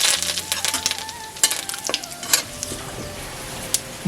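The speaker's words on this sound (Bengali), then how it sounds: "সর্ষে দিচ্ছি কালো সর্ষে সেটা হয়ে পেকে গেল কেরি পাতা দিলাম" Black mustard seeds and curry leaves crackling in hot oil, quick sharp pops and spits scattered over a steady sizzle, with a few metallic clinks from the pan, close and lively.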